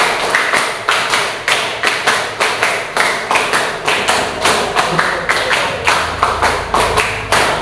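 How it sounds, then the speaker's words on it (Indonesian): A classroom group claps together in counted sets that grow from one to five claps, crisp and loud, with short pauses between each burst. "Tepuk 1, tepuk 2, tepuk 3, tepuk 4, tepuk 5 kali."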